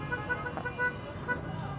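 Short car horn toots sound a few times over a low rumble of street traffic at a traffic light in Zabarte, Caloocan, moderately distant.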